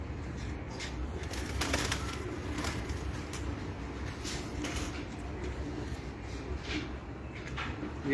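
Soft cooing of Red Bull pigeons mixes with a steady outdoor rustle and noise in low evening light, with occasional fluttering sounds and no talking.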